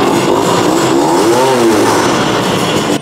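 A modified Yamaha RX 100 motorcycle engine revs hard and loud, with the pitch climbing and falling in a sustained blip close by, filling the whole moment without talk.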